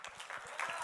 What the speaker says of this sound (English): this is the moment where you guys clap